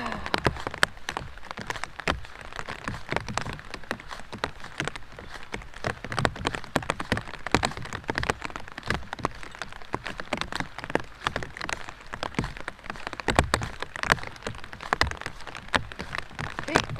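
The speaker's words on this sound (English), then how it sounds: "you've just realised it's pouring down with rain" Rain pours down outdoors in a crackly, uneven patter of drops striking surfaces, with sharp ticks scattered through a continuous wash, moderately close.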